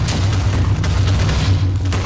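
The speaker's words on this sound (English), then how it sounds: "you, you've been targeted for explosion" Deep explosive booms from blowing things up, with a couple of sharper cracks breaking through a dense, continuous roar that stays loud and close for the whole stretch.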